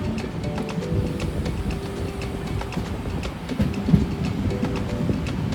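Train rolling along rails on a rainy journey, a steady rumble with rhythmic clickety-clack of wheels over joints, close and continuous with no talking.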